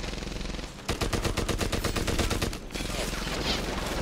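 MG44 machine gun fire in the video game Medal of Honor Airborne: a sustained, rapid burst of rattling shots after a brief pause, then continued gunfire and combat noise, fairly quiet overall.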